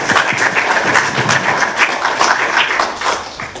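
Audience applause following a talk at a verification conference on the Large Hadron Collider, steady dense clapping from a crowd filling the room for several seconds, fading slightly toward the end.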